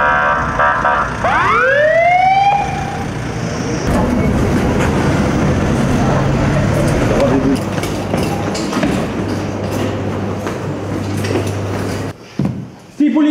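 A loud electronic police security alarm siren whoops upward several times during a robbery, then a sustained wailing tone continues with rumbling noise and voices underneath.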